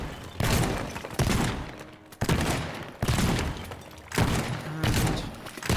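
Shotgun blasts in the video game Teardown, four loud booming shots at roughly one-second intervals, each followed by crumbling and clattering debris.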